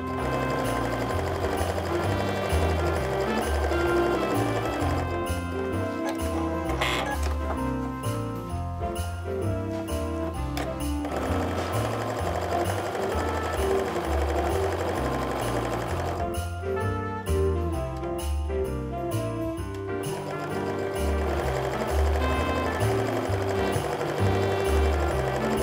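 A sewing machine chain pieces quilt fabric for a snowflake mug rug, running in a fast continuous rattling hum with brief slowdowns, close and steady throughout without talk.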